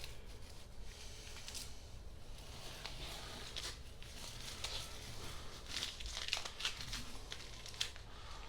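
Masking tape peeling off a car panel during a candy and flake paint tape-fade job, heard as a steady crinkly, papery rustle with scattered sharper tearing crackles across several seconds, fairly close.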